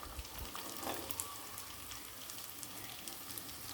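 Carrot pieces fry in a pan, producing a faint, steady sizzle with light crackling and a few soft stirring scrapes.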